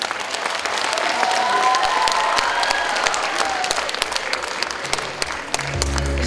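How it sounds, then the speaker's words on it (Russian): Audience applause with some cheering after the introduction of a folk Arabic dance at an evening performance, dense steady clapping filling the room before music starts to come in near the end. "Аплодисменты!"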